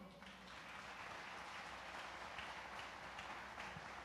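A church audience breaks into applause, a thick, continuous rattle of many hands clapping, fairly distant and quiet, holding steady from start to finish without speech.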